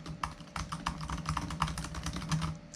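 Quick, uneven clatter of typing on a 2017 MacBook keyboard, close and fairly loud, a dozen or so crisp key taps in rapid bursts with no talking.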